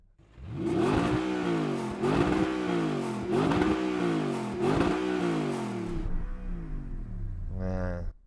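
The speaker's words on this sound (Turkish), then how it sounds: "tüm bu arabaları gazladığınızda nasıl ses çıkardıklarını karşılaştıralım" A powerful Audi R8 V8 engine revs repeatedly, rising and falling in several strong bursts, then settles to a low idle before one final sharp blip.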